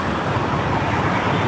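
Heavy road traffic at Shil Phata junction in Dombivli rumbles as a steady, loud, dense wash of engine and tyre noise with no clear gaps or voices.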